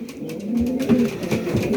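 Racing pigeons coo softly nearby in a loft, low throaty warbling calls overlapping in a continuous murmur.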